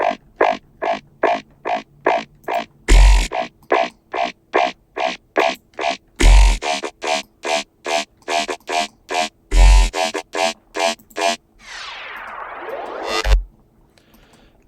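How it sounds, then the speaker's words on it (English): Dubstep lead synth from a bass-music drop, with short repeated stabs in a steady rhythm, heavy impact hits every few seconds and a sweeping wobble near the end, loud and alone. "And we start to bring in our dubstep lead, which is just from the drop."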